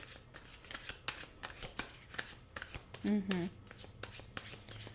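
Tarot cards are shuffled by hand in quick, crisp riffling bursts, close and fairly quiet, with a brief voice sound partway through.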